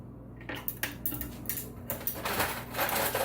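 Ice cubes dropped into a glass of vodka, giving several sharp clinks and rattles in quick, uneven succession, close and fairly loud, with no talking.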